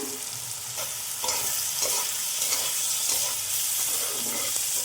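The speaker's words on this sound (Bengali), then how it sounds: "একটু লাড়াচাড়া করে টমেটোটা একটু ওখানে ভেজে নেব" Chopped tomatoes with turmeric powder frying in a pan while being stirred, a steady sizzle with periodic scraping strokes of the spoon throughout, close and moderately loud with no talking.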